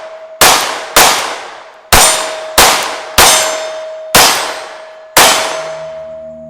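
Seven loud, sharp pistol shots from a Sig P365 X-Macro Comp, each with a metallic ring and a quick decay, fired in a steady string at close range with short pauses between them.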